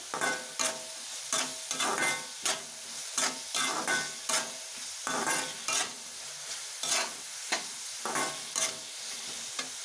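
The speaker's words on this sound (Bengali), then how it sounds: "দিয়ে আমি কিন্তু ভালোভাবে নাড়াচাড়া করে নেব। খুব বেশি কড়া করে কষিয়ে নেব না, হালকা কষাবো।" Taro stolons fry with spices in a pan, giving a constant sizzle broken by rhythmic scraping strokes of a spoon stirring about twice a second, close and clear with no talk.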